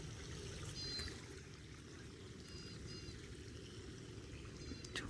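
Steady flowing water pouring and trickling through an irrigation channel in a cotton field, constant and close, with faint bird chirps high above and no talking.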